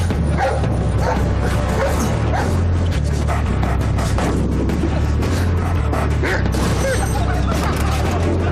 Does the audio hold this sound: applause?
no